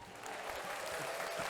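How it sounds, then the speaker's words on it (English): Brief burst of applause for a guest on a podcast, a dense wash of clapping from a small group that swells slightly and holds steady for a moment. "can we clap it up for him, please?"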